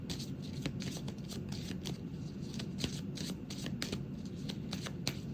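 A Santa Muerte tarot deck being shuffled by hand, with a steady run of soft papery riffles and rubbing that carries on throughout at moderate, close-up volume with no talking.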